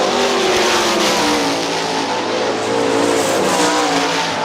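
Sprint cars race at Hartford Speedway Park, engines roaring loud and steady at close range with a continuous revving drone and no voices.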